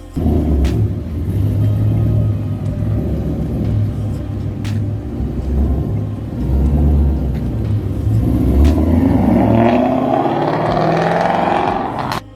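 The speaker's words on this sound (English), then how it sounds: "you hear a Mustang-inspired engine rev sound, just like a car ignition" Mustang-inspired engine rev sound effect played by GoBoult Mustang Torq wireless earbuds at power-on: a loud, continuous low engine rumble that swells in waves, then climbs in a rising rev near the end before cutting off.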